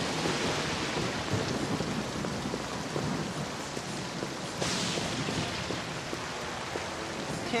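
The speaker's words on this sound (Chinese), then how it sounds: "下这么大的雨" Heavy rain pours steadily and loudly throughout, with low thunder rumbling beneath the downpour; no voices are heard.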